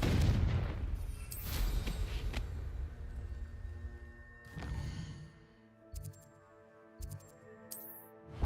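A Confringo blasting spell explodes in the Hogwarts Legacy video game: a heavy booming burst up front, a second blast near two seconds and another around four and a half, trailed by short sharp pops and chimes.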